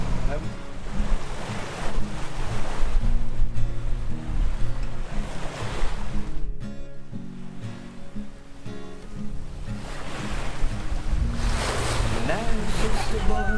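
Open Atlantic sea waves wash and surge around a sailing boat under steady wind, a loud continuous roar that swells and briefly eases midway, with wind buffeting the microphone.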